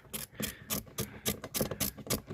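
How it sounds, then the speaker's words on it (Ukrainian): Ratchet wrench with a 10 mm socket backing out screws on a fuel filter cover of a 2007 Suzuki SX4 1.9 diesel, giving a run of quick rhythmic clicking bursts, close and fairly quiet, with no talking. "відкручую наші гвинти тріскачкою, головкою на 10"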